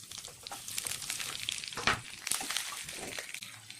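Onion, green chili and curry leaves fry in hot oil after cumin and mustard seeds, a dense crackling sizzle with occasional stirring scrapes, close and steady throughout.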